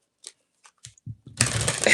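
Tarot cards being shuffled: a few soft isolated taps and slides, then a dense burst of riffling card noise close to the microphone.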